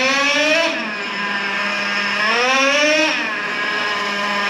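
A Traxxas Revo 3.3 nitro RC truck engine screams at about half throttle, its high buzzing whine rising and falling in two sweeping revs, loud and close with no voices.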